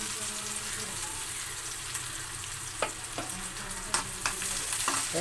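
Sliced okra with turmeric and salt sizzles as it sautés in a hot pan, a steady frying hiss broken by a few clacks of stirring.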